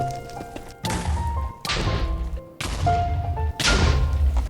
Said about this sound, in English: But now cue the bed exploding montage.